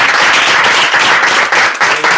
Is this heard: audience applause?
yes